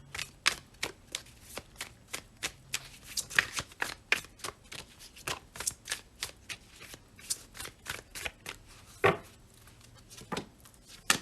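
Moonology tarot oracle cards being shuffled by hand, a fast run of crisp papery riffles and slaps close up, repeating steadily throughout with no voices.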